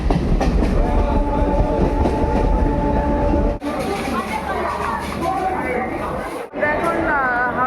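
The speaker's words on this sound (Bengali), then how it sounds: "আমাদের ট্রেন এখন সাঁতরাগাছি জংশন থেকে ছেড়ে দিল" A train pulls out of Santragachi Junction bound for Howrah, its loud, continuous rumble and wheel clatter heard from inside the carriage, with voices in the background and two brief dropouts.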